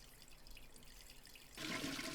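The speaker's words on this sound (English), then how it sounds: "If it's my lucky day, the hose will be attached, and I'll be able to fill the watering can with water." A watering can is filled from a hose in the Zak McKracken point-and-click game: a faint, quiet watery hiss that swells into a brighter rushing pour for the last half second.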